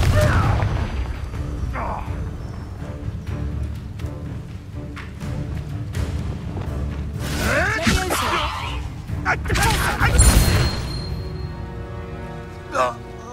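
A Confringo blasting spell goes off in Hogwarts Legacy with a whooshing burst and a boom, amid continuous combat noise and game music, with voices talking over the fight.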